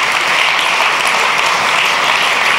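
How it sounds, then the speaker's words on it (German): An indoor New Year's reception audience claps steadily, a dense even wash of applause held at the same level from start to end, with no voices over it. "Man kann dazu auch klatschen, einer hat versucht, es anzufangen"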